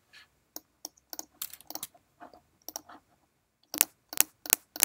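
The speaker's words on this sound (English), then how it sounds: "the click object simply produces an impulse." Sharp digital impulse clicks from a click object in Max audio software, first a scattered run of quieter ticks, then four loud, evenly spaced bright clicks near the end, with no voices.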